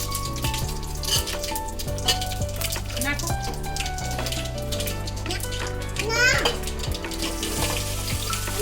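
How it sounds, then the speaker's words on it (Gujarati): Methi muthiya dropped into hot oil with curry leaves, sizzling steadily at close range while children's voices chatter over it. "હવે એમ આપણે મુઠિયા નાખી દઈશું"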